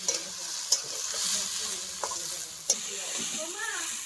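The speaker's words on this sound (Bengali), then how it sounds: "আলু ভাজার মধ্যে মানে ভাজা মশলা দিয়ে দিচ্ছে, এখন ভালোভাবে কষাবে" Potato pieces fry in a pan with roasted spices while being stirred, a steady sizzle broken by a few sharp scrapes and knocks of the spoon; no one speaks.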